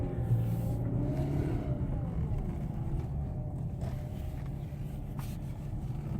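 A 2018 Toyota RAV4 LE's engine hums steadily at close range as the SUV is maneuvered into place, with a low continuous drone and faint shifting tones throughout.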